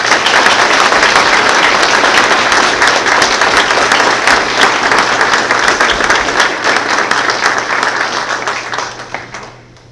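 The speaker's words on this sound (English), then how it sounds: "Let's give Lieutenant Hooper a round of applause" Audience at a school board meeting breaks into sustained applause that stays loud and even for about eight seconds before fading out.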